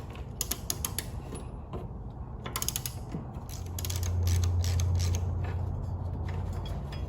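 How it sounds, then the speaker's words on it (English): Socket wrench loosening the blade bolt on a walk-behind push lawnmower, heard as rapid, close ratcheting clicks in bursts, followed by a steadier low rumbling grind as the bolt turns, no talking. "You need to get your socket wrench. Here's the bolt. We loosen that."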